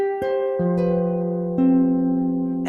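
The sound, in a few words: harp played with two notes added, black and red strings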